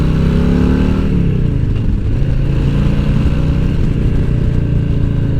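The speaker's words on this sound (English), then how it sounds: "just roll on the gas and this bike takes off" A Harley-Davidson V-twin touring motorcycle accelerates hard, its loud, close engine rising in pitch with a gear change about a second in, then pulling strongly again with a deep throbbing roar, no talking.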